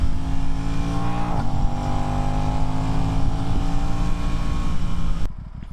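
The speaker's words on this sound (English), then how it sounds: "I just kind of got on the bike and decided to get on and ride around." A 2026 Aprilia RS 660 Factory motorcycle engine drones loud and steady while riding, holding an even tone before cutting off abruptly near the end.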